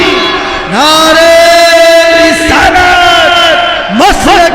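A large crowd at a religious conference roars back in unison to the Naara-e-Takbeer slogan, loud sustained chanting bursts that rise and fall, with a brief lull before a final rising cheer.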